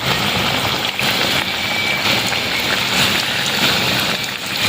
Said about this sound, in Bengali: এবার তেল ভালোভাবে গরম হয়ে গেছে এবার তেলের মধ্যে আস্তে আস্তে দিয়ে দেবো